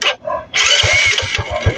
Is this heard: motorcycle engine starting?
yes